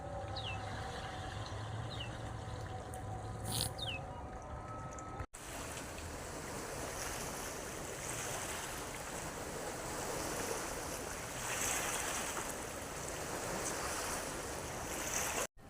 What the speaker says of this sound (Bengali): দেখো জল কীরকম উথাল পাথাল ঘুরছে